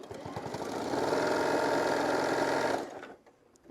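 A sewing machine stitches a couple of inches down a fabric shoulder wrap, its fast mechanical whir running steadily for about three seconds up close before stopping, leaving faint handling noise.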